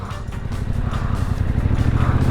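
New Yamaha motorcycle pulling away, its engine a close, loud, steady rumble with a low pulsing throb that builds slightly as it rides off.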